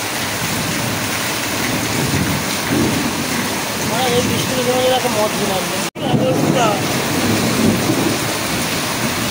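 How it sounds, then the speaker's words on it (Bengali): Heavy monsoon rain pours down at night, a steady roar with rolling thunder, while people talk in the foreground and the downpour keeps up throughout. "ব্যাপক পরিমাণে বৃষ্টি হচ্ছে আর বর্ষাকাল।"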